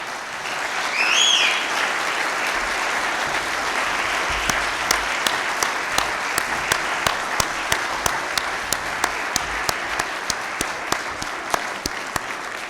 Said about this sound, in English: give Connie a real round of applause.